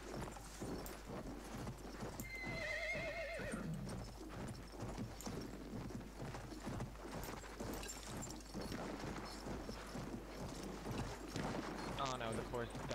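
Hooves of a cavalry horse pounding in a rapid clip-clop rhythm in Battlefield 1, with a whinny, clattering battle noise and someone talking over it throughout.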